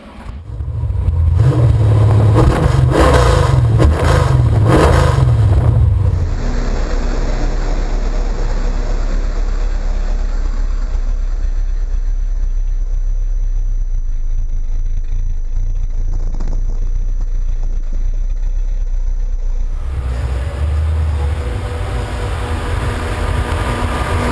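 A Barracuda car set up for drifting revs hard several times in loud bursts, then settles into a steady, rumbling run that continues for a long stretch.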